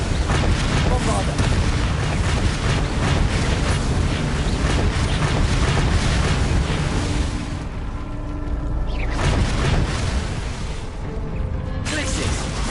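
Bombarda explosion spells in Hogwarts Legacy boom loud and close amid ongoing spell combat, a sustained roar of blasts and crackling impacts that thins briefly before another heavy burst; voices are heard in the mix.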